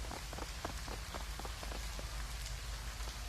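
Steady rain pours inside a building in the video game Shadowrun Hong Kong, a soft constant hiss with faint scattered drop taps, heard alone without voices.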